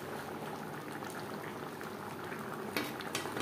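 Lata fish curry with mankochu simmering in a pan, a dense steady bubbling with a couple of louder pops near the end, close and without voices.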